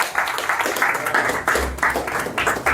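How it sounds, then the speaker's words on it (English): Audience applause following a community news report, a steady patter of clapping hands lasting a few seconds, moderately loud with a low rumble underneath and no clear speech over it. "Let's give that a round of applause."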